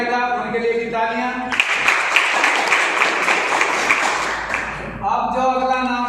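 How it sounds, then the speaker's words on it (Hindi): Audience applause at an award ceremony for a special education coaching institute, a dense, steady wash of many hands clapping for several seconds between stretches of amplified speech. "उनके लिए भी तालियां"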